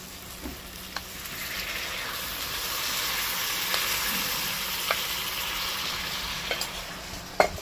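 Pressure-cooked banana flower is mixed in a hot pan for a vegetarian dish: a continuous soft sizzle with a few faint, scattered utensil taps, close and fairly steady, with no talking.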